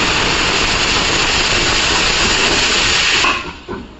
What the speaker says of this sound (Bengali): এবারে কুকারেও মিশেল বেজে গেছে।